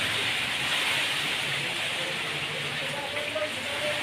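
Heavy afternoon rain from a typhoon pours down in a constant, muffled hiss, fairly faint and steady, with voices talking over it at times.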